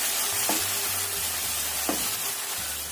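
Vegetables stir-frying in a hot pan with soy sauce and oyster sauce, a steady bright sizzle broken by a few scraping stirs of the spatula and low clunks from the pan, close and continuous with no talking.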